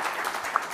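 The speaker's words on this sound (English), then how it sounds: "I think that's worth a round of applause." Audience applause at a Fortune CEO Initiative conference session, a brief spell of faint, distant-sounding clapping with a hissy, washed-out texture.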